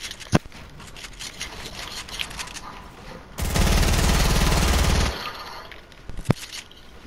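Video game gunfire: a couple of sharp single shots, then a dense sustained burst of rapid automatic fire lasting under two seconds, followed by another lone shot, loud and close, no talk.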